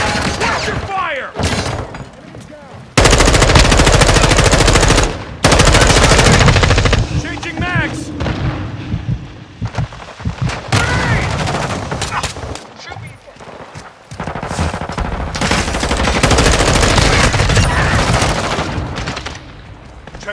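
A video game death match erupts with loud bursts of machine-gun fire and single gunshots, rapid rattling volleys broken by brief pauses, with shouted voices between and under the shooting.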